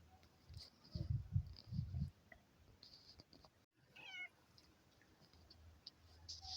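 A cat meows faintly a few times amid quiet outdoor ambience beside a beehive in December, with some low thumping noises earlier on.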